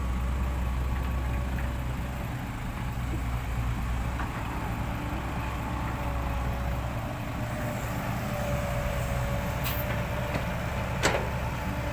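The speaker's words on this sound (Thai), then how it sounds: "โอ้ไล่ตูดมาเลยครับ รถไฟสองคันครับ" A continuous heavy rumble of two trains rolling past in Thailand, one with small cars and one with large cars, loud and steady throughout, with a brief metallic clank near the end.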